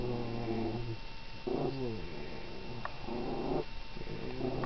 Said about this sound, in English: Yes, our dog purrs.